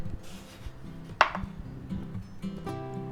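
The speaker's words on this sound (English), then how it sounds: "Now we're going to slice off the end here a little bit." A knife cuts through the end of an eggplant on a cutting board, one sharp close chop standing out amid quieter board knocks and handling.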